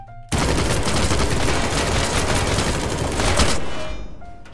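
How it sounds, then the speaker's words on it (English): Assault rifle gunfire in the video game People Playground, one sustained loud burst of rapid automatic fire lasting about four seconds, then trailing off into a brief tail. "Let's test him against the assault rifle."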